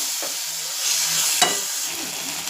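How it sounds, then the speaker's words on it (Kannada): Chopped tomato fries in a pan while cooking a pepper rasam, giving a steady close sizzle with brief stirring scrapes and no talking. "ಇದನ್ನು ಫ್ರೈ ಮಾಡ್ಕೊಳ್ಬೇಕು ಇವಾಗ ಇದಕ್ಕೆ ನಾನು ಒಂದು ಟೊಮೊಟೊನ ಸಣ್ಣದಾಗಿ ಹಚ್ಬಿಟ್ಟು ಹಾಕೊಳ್ತಾ ಇದ್ದೀನಿ"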